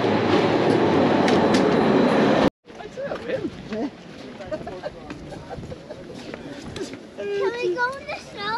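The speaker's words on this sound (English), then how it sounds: "That's our train ride to Gormagrat." The Gornergrat railway train in Zermatt rolls along, a loud steady rumble that cuts off abruptly, followed by quieter carriage clatter with people talking and bird-like squeaks or chirps near the end.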